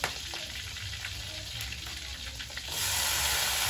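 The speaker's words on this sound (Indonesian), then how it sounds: "Panggangnya tak goreng dulu ya." Smoked fish (panggang) frying in oil in a pan, a steady close sizzle throughout that grows louder and denser near the end.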